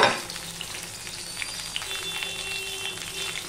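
Pointed gourd (potol) frying in oil with a little salt crackles and sizzles steadily nearby, with light stirring scrapes and small pops throughout.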